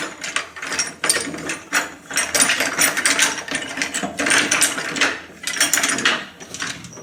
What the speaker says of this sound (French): Petit axe que je mets dans la poignée pour serrer plus fort.